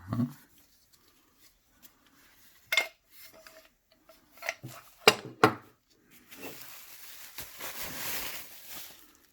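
Metal pan of a meat grinder attachment for a stand mixer being handled, with scattered clinks and knocks of metal parts, then a rubbing, scraping stretch toward the end, close and fairly quiet.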